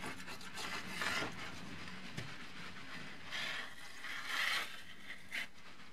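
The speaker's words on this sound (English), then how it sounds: "I'm going to scrape out the old sealant." Old sealant scraped out of a tinted bus window frame, giving a quiet, uneven rasping and rubbing that comes in several short bursts, a few of them stronger, against a low background hum.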